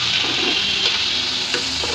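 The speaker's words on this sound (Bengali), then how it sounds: "তো আদা বাটা দিয়ে দিলাম, একটু রসুন বাটা দিব" Ginger garlic paste sizzling in hot oil for Bengali pulao, stirred in the pan with a steady loud fry hiss and a few scraping strokes of the spoon, no voices.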